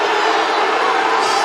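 A home crowd at a college wrestling match between Pittsburg and North Carolina State, in overtime, cheering as a steady, dense roar that fills the hall without a break.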